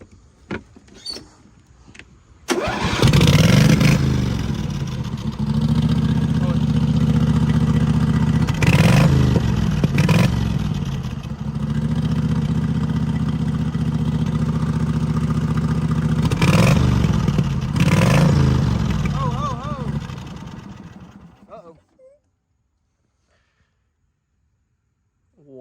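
An engine is started and left running for a short stretch during a turbo repair to check whether the turbo is spinning. It gives a loud, steady running drone with a few bursts that rise and fall, then cuts off to silence.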